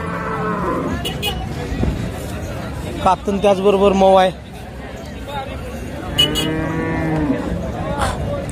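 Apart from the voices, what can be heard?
cow at cattle market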